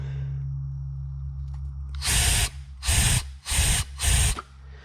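Air is blown through a refrigerant headmaster valve as it is pushed open, giving four short, loud hissing bursts in quick succession over a steady low background hum.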